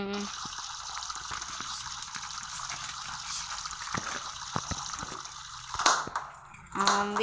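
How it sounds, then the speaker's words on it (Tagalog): Water runs steadily and hisses over hands being washed under a tap, close up for several seconds, with a few knocks and clatters near the end. "maghuhugas lang ako ng kamay"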